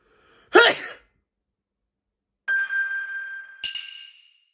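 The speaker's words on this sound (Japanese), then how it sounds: "生まれて初めてくしゃみした人やりますね" A single sharp sneeze bursts out up close, followed after a pause by a couple of bright electronic tones ringing out.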